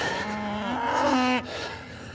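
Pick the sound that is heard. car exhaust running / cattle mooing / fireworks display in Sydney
cattle mooing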